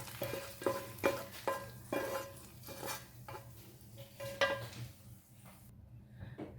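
Curry leaves tempering in hot oil for a Kerala-style roasted-coconut fish curry, a steady sizzle broken by metal spoon clinks and stirring scrapes roughly once a second, fading near the end.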